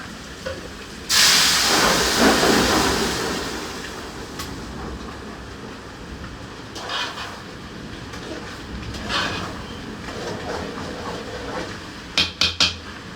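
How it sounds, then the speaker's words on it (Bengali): Spices dropped into hot oil for a baghar give a sudden loud hissing sizzle that swells, then slowly fades, followed by softer sizzling and a few sharp clatters of a utensil. "দেখাও তো এমনি বাগার দিই।"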